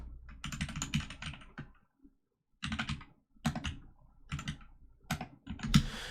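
Close computer keyboard typing during a live coding stream, with bursts of quick, crisp keystrokes broken by short pauses and a few heavier thumps of larger keys.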